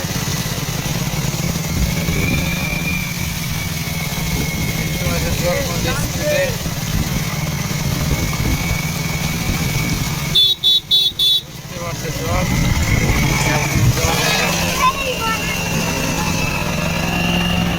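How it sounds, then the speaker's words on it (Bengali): A motorcycle engine runs steadily while it rides through village floodwater that sloshes and splashes around it, with a brief beeping horn midway and a voice talking over the engine. "দেখো জলটাতে আমার বাইক কীভাবে নিয়ে যায়"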